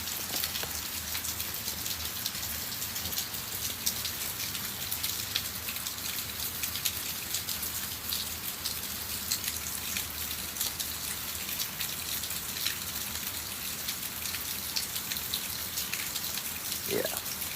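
Heavy rain falls steadily in Florida, a dense, continuous hiss of drops on surfaces that stays constant throughout, with faint voices beneath it.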